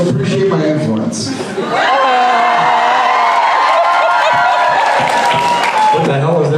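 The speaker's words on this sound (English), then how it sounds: "What the hell was that cheer for?" Convention audience cheering and whooping at a panel with two actors, a loud crowd roar building and holding for several seconds after brief chuckles and talk.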